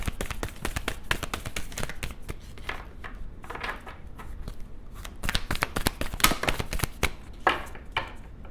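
Tarot cards being shuffled by hand to draw one, a steady run of crisp riffling taps and slides that rises and falls for several seconds, close and fairly loud with no talking.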